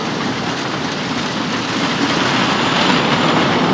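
A roller coaster train in the Planet Coaster video game banks around and plunges down its first drop, giving a loud, steady, close rumble with a faint rattling clatter that builds slightly toward the end, with no voices.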